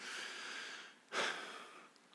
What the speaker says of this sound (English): I'm just going to clear my throat into this mic here